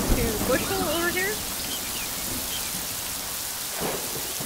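Steady rain hisses and pours in the farming game Yonder: The Cloud Catcher Chronicles, with a low rumble of thunder underneath and a brief whistle-like tone early on.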